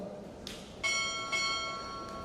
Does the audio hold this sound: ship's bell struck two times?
yes